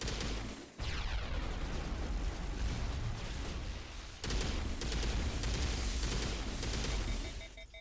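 Grenade blasts in the Mass Effect video game on Insanity difficulty: two loud, sustained booming eruptions, the second following a brief gap, with rolling rumble and crackling debris in combat without talk.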